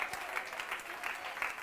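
A sermon audience claps together, producing dense, steady applause that stays even in loudness for the whole stretch, with no clear pauses.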